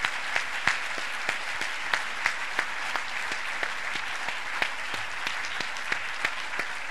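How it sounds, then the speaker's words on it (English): Conference audience applause fills the room as a steady, dense wash of clapping, with a few sharp, louder claps from nearby hands popping out at irregular intervals above the crowd. "I'd like to ask you if we could applaud for them as well and all the hard work that this team has done."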